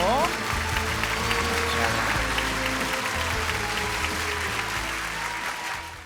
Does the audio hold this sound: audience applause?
yes